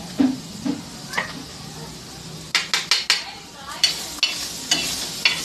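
Chopped tomatoes sizzle and stir in a pan, with repeated sharp scrapes and clinks of a utensil against metal, close by.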